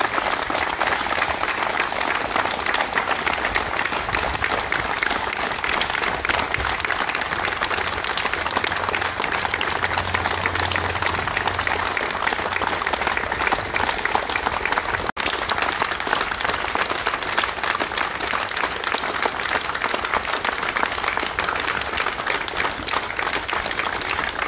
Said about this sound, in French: Nous vous demandons une minute d'applaudissement à la mémoire de Christian